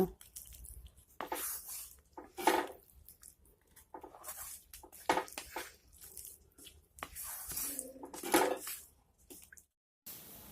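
Fried fish is stirred into a potato and onion-stalk curry in a pan, with wet, squelching scrapes and clinks coming in uneven bursts, close and moderately loud, separated by short quiet gaps.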